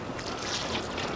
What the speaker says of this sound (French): Donc on arrose autour.